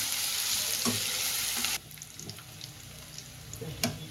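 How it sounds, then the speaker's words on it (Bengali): Garlic drops into hot oil in a pan, bringing a loud, close sizzle at first that suddenly softens to a quieter crackle with a few light clinks. "তেল দিলাম, তেলটা গরম হয়ে গেছে, রসুনটা দিয়ে দিলাম।"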